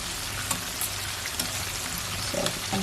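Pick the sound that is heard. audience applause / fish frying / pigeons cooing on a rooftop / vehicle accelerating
fish frying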